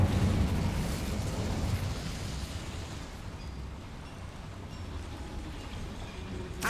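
A fiery Incendio spell blast in the video game Hogwarts Legacy bursts out loud at the start, then settles into a broad rumbling roar of flames that slowly fades and persists to the end.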